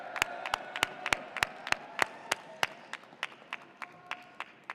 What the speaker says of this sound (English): Can we give it a round of applause for our family